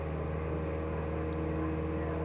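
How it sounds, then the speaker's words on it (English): Cessna Skyhawk engine in X-Plane 12, heard as a steady, droning piston hum with a constant low tone, evenly loud and unchanging, like a cockpit recording with no voices. "Let me listen to my engine."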